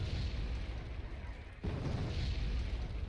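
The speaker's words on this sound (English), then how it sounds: "The explosion was close enough." A distant explosion in the real-time strategy game Wargame Red Dragon, heard as a low, dull rumbling boom that rises suddenly midway through and then holds steady under a constant noisy battlefield bed.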